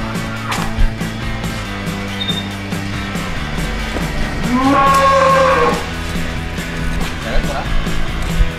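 A large sacrificial cow is led into its pen at a cliffside enclosure, letting out one long low moo midway amid wooden knocks and shuffling, with people talking nearby.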